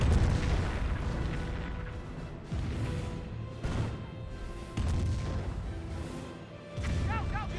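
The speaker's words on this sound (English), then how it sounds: "Another Calliope rocket barrage trying to save his other Calliope." Repeated booming rocket impacts from a Sherman Calliope barrage in the WWII strategy game Company of Heroes, several heavy blasts in sequence with rumbling tails under a commentator's voice.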